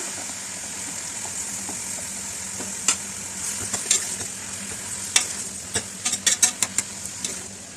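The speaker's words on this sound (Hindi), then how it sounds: "इनको आप स्लाइस में कटिंग कर लें और इसको हम ऑयल के अंदर फ्राई कर लेंगे" Sliced onions frying in hot oil for chicken haleem, a steady close sizzle with a hiss bed and scattered crackles and pops that grow denser toward the end, no voices.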